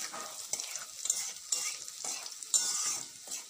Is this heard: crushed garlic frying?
yes